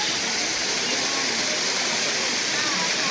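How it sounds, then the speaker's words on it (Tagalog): Daranak Falls pours in a steady, dense roar of rushing water that fills the scene evenly throughout, loud and close with no pauses. "Pero ang ganda ng falls oh."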